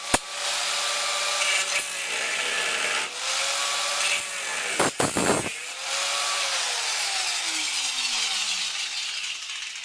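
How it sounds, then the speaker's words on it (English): An angle grinder cuts through the sill metal of an MGB car with a loud, sustained high whine that dips briefly midway, then winds down as the disc slows, heard close. "We're going to do the top cut with the angle grinder"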